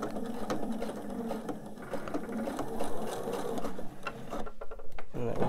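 A sewing machine stitches slowly in a steady mechanical whir with ticking gear sounds, pausing briefly near the end before starting again.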